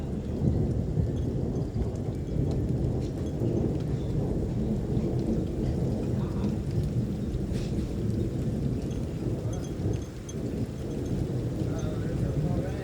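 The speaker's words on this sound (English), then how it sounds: "There's the longest thunder." Heavy rain pours through a thunderstorm with strong wind gusts, a dense continuous downpour under long rolling thunder, close and loud throughout.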